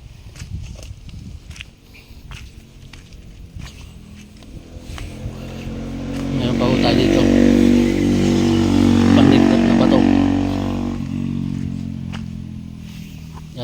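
A service motorcycle engine rumbles, growing louder as it draws near and passes close by beside a highway, then fades, with faint background noise around it.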